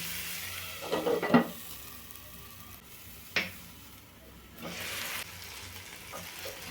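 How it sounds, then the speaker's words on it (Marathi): Tomato and onion sizzle gently in a covered pan, a soft crackling fry with a few louder scraping stirs and clinks of a utensil against the pan. "त्याच्यावर थोडं झाकण ठेवून आपण ह्याला आधी टोमॅटो आणि कांद्याला भाजून घेऊ"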